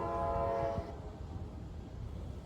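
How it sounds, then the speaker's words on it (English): A Norfolk Southern AC44C6M locomotive sounds its K5LA horn as a manifest freight approaches: a loud, sustained multi-tone chord that cuts off abruptly after under a second, leaving rumbling train noise. "Yet another friendly engineer is on board 38G, giving an awesome horn show as the train approaches."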